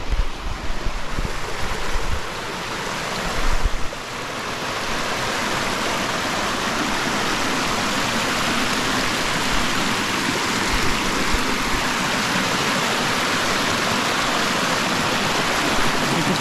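Fast-flowing water on the Eno River, running high, gives a loud, continuous broadband rush that stays steady throughout, close to the microphone with no voices.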